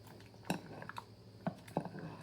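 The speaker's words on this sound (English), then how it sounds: "Stir that up." A spoon stirs fermenting peach brine in a container, giving a few sparse, soft clinks against the side over a quiet background.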